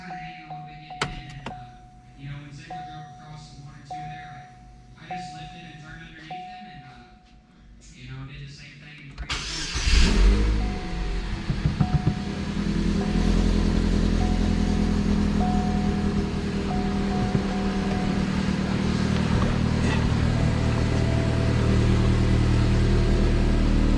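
A Chevrolet Cobalt SS engine starts up and settles into a loud steady running drone with a persistent whine, after a stretch of people talking nearby; voices continue faintly over the engine.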